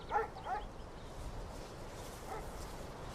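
A dog lets out a few short barks and whimpers at a moderate distance, brief yelps early on, then quieter noise with little else.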